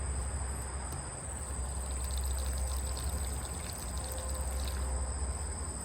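Steady rushing water pours continuously from a mountain spring siphon valve opened fully, with a high insect-like chirring hum layered above it; no voices.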